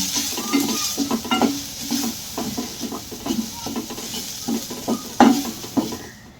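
Kashmiri red chilli powder and spices sizzle in a hot pan for kaju masala curry while a spoon stirs and scrapes in quick, irregular strokes, close and clear.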